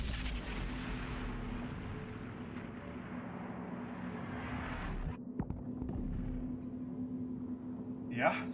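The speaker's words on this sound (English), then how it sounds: "something, some kind of sonic boom noise" A sonic boom noise in the side-scrolling game Inside: a sustained loud low rumble that cuts off sharply midway, followed by a quieter stretch and a brief swell near the end.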